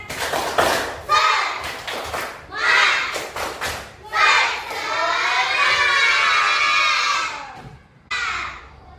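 A class of schoolchildren shout a spirit clapping chant in unison, bursts of young voices alternating with sharp claps, loud and close, with brief pauses between phrases.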